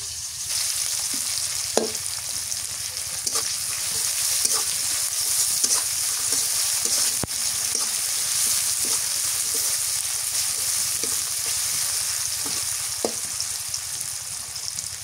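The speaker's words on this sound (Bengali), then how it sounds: "পেঁয়াজ ভাজা হয়ে গেছে, দিয়ে দিই আদা রসুন বাটা," Chopped onions fry in oil with bay leaf and whole spices in a pan, giving a loud, dense, continuous sizzle with occasional soft stirring clicks, close and steady throughout.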